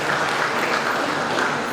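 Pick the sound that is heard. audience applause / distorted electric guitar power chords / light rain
audience applause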